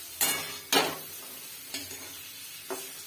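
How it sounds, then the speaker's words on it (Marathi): Eggs coated in masala sautéing in oil for an egg curry, a low steady sizzle broken by four sharp stirring scrapes of a spoon against the pan, spaced roughly half a second to a second apart. "थोडं वेळ असे जरा तेलामध्ये परतून घेऊया"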